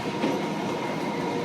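A West Coast sleeper train pulls into London Euston station, rolling steadily with a rumbling, rattling wagon noise and a faint squeal, moderately distant, no voices.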